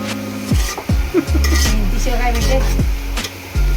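A metal spoon scrapes and clatters in a pan while onion and tomato for pav bhaji cook, with repeated stirring knocks and scrapes over a steady sizzle.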